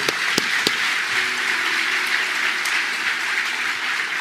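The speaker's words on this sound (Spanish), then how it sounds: "Fuerte aplauso al Señor por los consejos que nos han dado." Church congregation applauding during a Christian sermon: steady, dense clapping that fills the whole stretch at an even level, with a few sharper claps standing out near the start.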